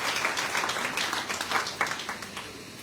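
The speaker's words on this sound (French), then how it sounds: "ne vous arrêtez pas d'applaudir, s'il vous plaît" An audience applauds steadily, a dense wash of many hands clapping together without pause.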